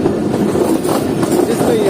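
The Karakoram Express train crosses a river bridge with a loud, continuous rumble and rolling roar of wheels, heard up close.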